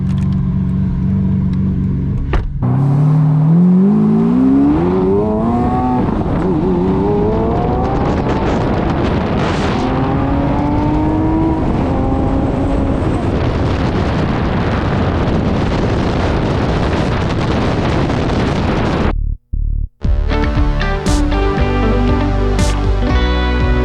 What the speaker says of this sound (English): I think Dean and I are going to take a quick little ride in his Lamborghini here